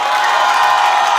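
Concert audience cheering and applauding in a hall: a dense, loud, continuous wash of crowd noise with shouting voices, brief and steady.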